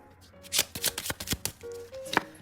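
Tarot cards shuffled and drawn during a reading: a close run of crisp riffling snaps and slaps, then a short pause and a final flick, no voices.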